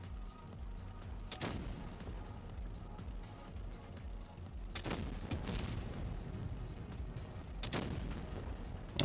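Heavy cannon fire in a tank video game featuring the Carro 45t: several deep booming shots at irregular intervals, loud and close, over a continuous engine rumble.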